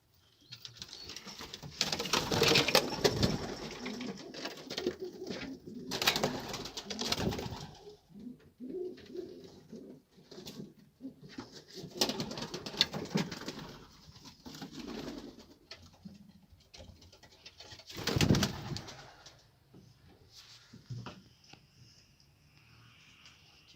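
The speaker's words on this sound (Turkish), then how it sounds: "Bizim kuşlar malum cam güzelleri uçtular." Pigeons coo in repeated low, throaty bursts with brief pauses between, close by and fairly quiet, with a soft rustle of wings now and then.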